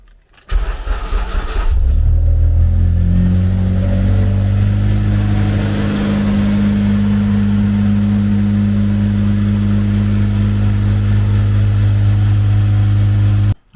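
A Honda K20 engine swapped into an EG Civic cranks for about a second, catches and settles into a loud, steady idle close by, running uninterrupted until the end with no speech.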